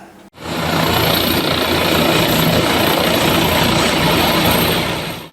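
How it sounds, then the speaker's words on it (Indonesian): Three helicopters of a police chief's delegation descend toward a football field, their rotors and engines roaring loud and steady as one continuous close drone that swells in and holds without letup. "Menggunakan 3 unit helikopter, Kapolri Jenderal Listio Sigit Prabowo"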